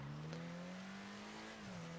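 A Zion Classic car, an 80s BMW 5 Series-style coupe in a GTA game, drives at night with a steady engine drone holding a constant pitch, dipping slightly near the end, continuous and moderately loud.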